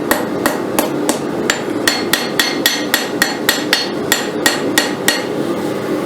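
Repeated hammer blows on a railroad spike forging the tip of a knife, roughly twenty sharp ringing strikes in a steady, fairly even rhythm, loud and close with no talking.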